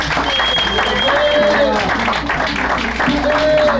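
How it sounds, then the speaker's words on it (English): Audience applause at a Women's History Month event held by a New Amsterdam musical association, loud continuous clapping from a crowd with voices and cheering mixed throughout, fairly close and steady. "Let's give her a nice round of applause."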